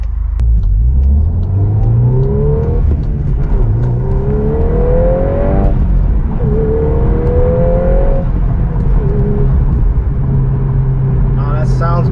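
A 2023 Volkswagen Golf R engine revs up through the gears, loud rising pitch sweeps repeated several times with brief drops between shifts, heard from inside the car with a voice talking.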